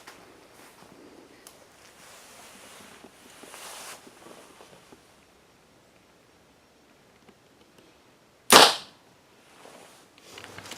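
A single sharp snap of a bow loosing an arrow at a target three yards away rings out once, close and loud, after several seconds of soft rustling and handling noise.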